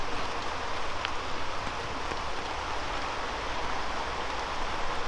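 Steady rain falls in a park, a dense, even hiss of drops on leaves and ground that continues without a break and without talk.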